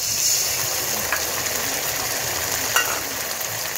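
Chili paste hitting hot oil with frying onions in a pan while cooking mutton curry, a loud steady hiss and sizzle with small crackles throughout, no talk.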